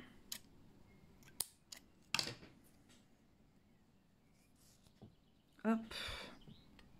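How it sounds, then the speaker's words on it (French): Small scissors snipping crochet yarn while making a little butterfly, quiet sharp snips and clicks separated by pauses, with a soft handling rustle near the end. "là on coupe le fil"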